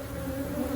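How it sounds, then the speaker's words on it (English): Honeybees buzz in a steady, dense drone during a hive inspection, close and continuous with no talking. "We've got a bunch of bees."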